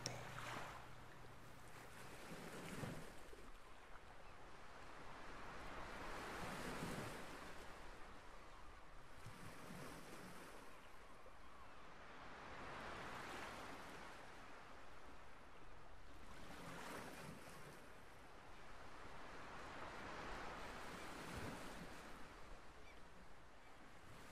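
Waves wash onto an abandoned beach in slow, regular swells, each surge rising and falling every few seconds, soft and distant with a constant hiss of surf between them.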